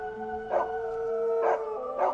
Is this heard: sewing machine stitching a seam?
no